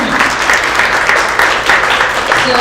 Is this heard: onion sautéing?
no